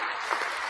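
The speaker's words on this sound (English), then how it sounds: "Let me give you a round of applause" A short burst of applause, a brief even wash of clapping on a commentary show.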